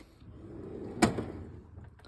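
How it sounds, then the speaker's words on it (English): A mechanic's tool box drawer slides open with one brief, sharp clunk near the middle, close by in a quiet room with faint background noise. "And this drawer I open up a lot."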